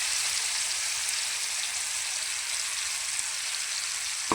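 Capsicum frying with tomato and coriander in a pan gives a steady, close sizzle with crackling, hissing texture that stays constant throughout, ending in a brief clatter.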